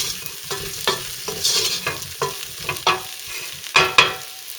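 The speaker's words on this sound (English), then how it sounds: "Next, crumble the beef stock cubes. And let it cook for a few seconds." Beef stew with crumbled beef stock cubes frying and being stirred in a pot, with repeated scraping stirs over a steady sizzle, close and fairly loud, no talking.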